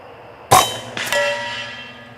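A .25 caliber PCP air rifle fires at a target 100 away, giving a sharp crack followed about half a second later by a metallic clang of the hit, which rings and fades slowly.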